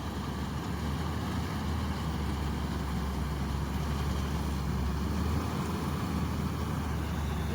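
A paddy harvesting machine runs fast through a field of ripe rice, giving off a steady, broad mechanical drone at moderate distance that holds without a break and has no speech over it.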